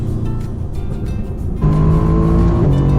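A race car launches and drives on a track, its engine loud and close, running at steady revs before stepping up to a higher sustained pitch partway through, with no talk.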